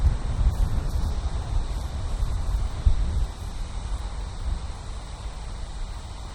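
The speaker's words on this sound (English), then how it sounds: "Wind is blowing way across." Outdoor wind blows steadily across a microphone on a golf course, a continuous low rumbling roar with gusty swells and no speech.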